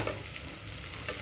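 Thinly sliced onions sizzle in hot ghee left after rum has cooked off, a steady close frying hiss with soft crackles, alone and without voices.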